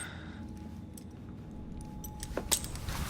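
Keys jangling in the video game Assassin's Creed Syndicate, a soft metallic rattle with a couple of brighter clinks near the end, close and fairly quiet over a low background hum, with no talking.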